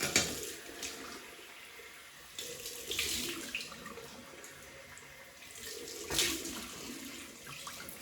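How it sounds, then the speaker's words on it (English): Cold water runs steadily from a bathroom tap into a sink while a safety razor is rinsed during a wet shave, a quiet continuous hiss with a few brief splashy surges as the blade passes under the stream. "Cold water rinse."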